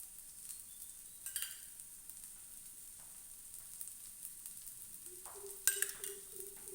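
Masala dosa batter frying in oil on a flat pan gives a quiet, steady sizzle, with a soft scrape and a brief metallic clink near the end.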